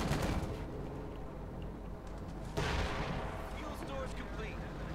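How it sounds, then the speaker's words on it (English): A mortar barrage in the war strategy game Company of Heroes 2 sounds as dull distant booms and crackling impacts within a busy battle mix, with a sharper burst midway. "Another mortar barrage with smoke."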